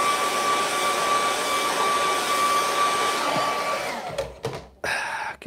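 A hair dryer drying acrylic paint on a canvas roars steadily and close for about four seconds, then cuts out and sputters with a few brief bumps and knocks.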